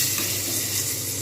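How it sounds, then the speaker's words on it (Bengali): Black cumin seeds tempering in hot oil in a pan, a continuous close hiss and sizzle without breaks, moderately loud and with no talking. "এইবার আমি এর মধ্যে জাস্ট এই যে নামমাত্র একটু কালো জিরে এর মধ্যে ফোড়ন দিয়ে দেবো"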